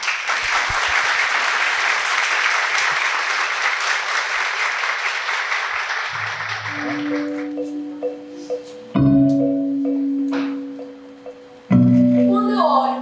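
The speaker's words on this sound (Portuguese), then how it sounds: "Vamos recebê-las com uma salva de palmas." A school audience claps in a long, dense burst to welcome students onto the stage at a SESI school event in Bahia, then the clapping fades as sustained musical tones and brief sounds take over.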